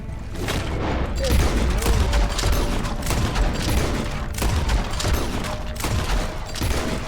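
Sustained gunfire in the Red Dead Redemption 2 video game during a train fight, dense overlapping shots forming a loud continuous barrage for about seven seconds with no pauses.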